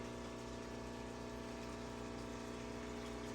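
Water is siphoned out of an aquarium housing oscar fish, a loud, continuous pumping gush with a steady, even hiss and no pauses or voices.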